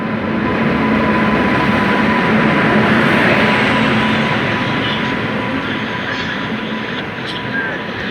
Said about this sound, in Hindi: मूविंग टू चेन्नई, ट्रेन आ चुकी है।